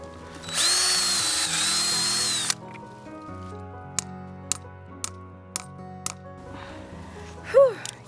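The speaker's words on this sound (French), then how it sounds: "nous allons avoir besoin d'une visseuse. Nous allons faire un petit trou de quelques centimètres de profond dans l'arbre" A cordless drill bores a small hole a few centimetres deep into a sugar maple trunk: one steady, loud whine lasting about two seconds, then a run of sharp, evenly spaced taps and clicks.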